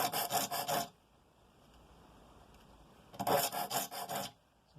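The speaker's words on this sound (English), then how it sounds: "just with 3 passes of the file, these teeth are pretty much fully formed." Hand file re-toothing a handsaw, two bursts of quick rasping strokes, about five rapid passes each, separated by a quiet gap, close and crisp.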